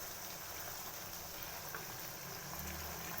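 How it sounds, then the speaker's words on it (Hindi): Yogurt water bubbling with chicken in a covered pot, a steady dense simmering hiss and burble that continues evenly throughout without pause. "देखिए जी, अब दही के पानी को भी जोश आ रहा है अच्छे से"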